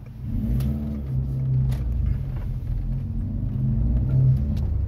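A 2001 Citroën Xsara VTS with a 2-litre 16-valve engine driving along, heard from inside as a steady low engine drone and road rumble that swells slightly under light acceleration, with faint clicks and no talking.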